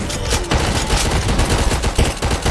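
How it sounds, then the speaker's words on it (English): RPG fire and explosions against an armored zombie in the Roblox game Zombie Uprising, a dense run of loud, rapid blasts and shots packed together across the clip with no talk. "I'm RPGing the fuck out of this dude."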